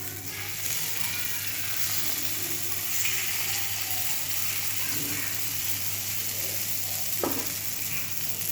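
Paddu batter sizzles in a hot, lightly oiled pan on medium flame, a steady close crackle throughout with a brief clink of a utensil near the end.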